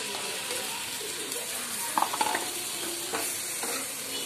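Tomatoes cooking in melted butter in a pan for pav bhaji give a steady sizzle with stirring scrapes and a few clinks, close and moderately loud, no talk.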